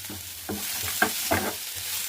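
Onion and tomato fry in a pan under a steady sizzle, with several scraping stirring strokes coming close together over about two seconds.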